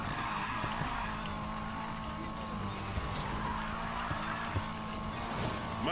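Engine roar and sliding tire squeal from a car drifting in the racing video game Need for Speed Payback, a steady loud wash of motor and skidding with a voice talking faintly over it.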